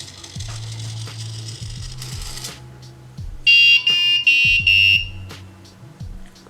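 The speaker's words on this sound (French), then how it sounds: "Et ensuite le buzzer est bip." An Arduino buzzer on a touchless water-pouring robot gives several sharp, high beeps in quick succession after some mechanical clicking and whirring; close and loud.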